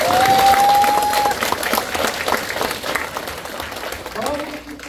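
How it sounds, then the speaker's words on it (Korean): A seminar audience in a hall bursts into dense applause that stays strong for a few seconds then thins out, while a speaker's amplified voice carries over it. "우리 자신을 위해서 큰 박수 한번 칩시다."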